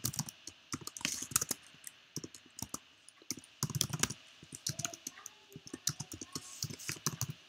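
Rapid, uneven typing on a computer keyboard while writing PHP code, clustered bursts of close, crisp key clicks with short pauses between runs and no talking.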